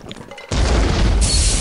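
A single sharp grenade blast in a video game, a sudden loud broadband crash with a dense low-end boom, following a brief stretch of quieter background noise.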